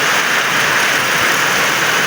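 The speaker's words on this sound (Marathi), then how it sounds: "मस्तपैकी पाऊस पडतो आहे बाहेर हे बघा" Steady, loud rain hisses without a break, a dense even wash of falling water close by, with no voices.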